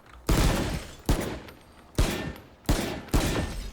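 A rifle in the video game Valorant fires five separate sharp shots, each a loud punchy crack with a short decaying tail, spaced unevenly across a few seconds.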